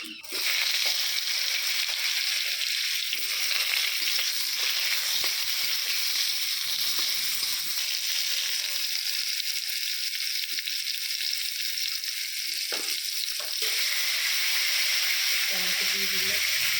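Panch phoron and dried chillies fry in hot oil for a raw mango and tomato chutney, giving a loud, continuous sizzle and hiss with brief stirring bursts near the end.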